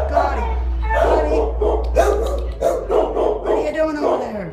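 A dog at a shelter kennel barks and yips in repeated short bursts, close by and loud, with some whimpering between them.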